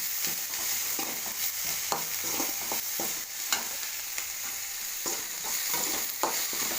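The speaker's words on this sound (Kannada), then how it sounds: "ಟೊಮಾಟೊ ಸ್ವಲ್ಪ ಕೊತ್ತಂಬರಿ ಸೊಪ್ಪು ನೀಟಾಗಿ ಬಾಡಿಸ್ಬೇಕು" Tomato and coriander leaves sauté in a hot pan, with a steady sizzle under repeated scraping and stirring strokes of a spoon, close and continuous with no talking.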